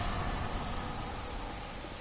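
Rain falling in the video game Dark Souls 2, a steady, even hiss of downpour filling the scene throughout without any voices.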